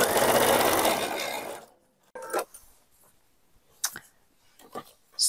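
A sewing machine stitches the side seams of a small bag with a one-centimeter seam allowance, a loud, close, steady whir for about a second and a half that then stops, followed by faint clicks and handling rustles.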